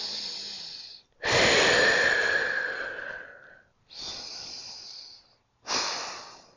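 Deep breaths during a yoga forward fold in a morning vinyasa flow: a short sniff, then a long, loud, airy exhale, followed by two more full breaths, close and clear with no talking.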